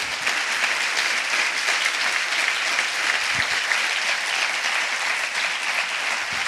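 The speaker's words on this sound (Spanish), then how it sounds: "Aplaude al Rey de Gloria." A church congregation applauds steadily, a dense, even wash of many hands clapping together that holds at a constant level throughout, with no voices standing out.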